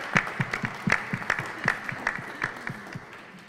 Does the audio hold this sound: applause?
yes